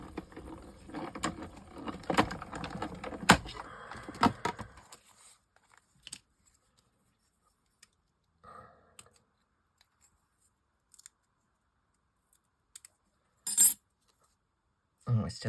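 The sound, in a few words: scissors cutting out tissue paper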